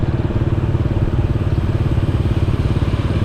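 A motorcycle engine putters at idle close by, a loud, steady throbbing beat throughout.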